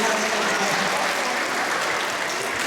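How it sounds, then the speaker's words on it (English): Audience applause at a sea lion show in a UK safari park, a dense, steady wash of clapping from a crowd that carries unbroken from start to finish. "Give a round of applause for the seal."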